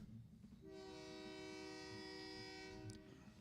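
A train horn blares in a long sustained chord from about 0.6 seconds to the end, loud and steady over the rumble of a passing train, with no talk.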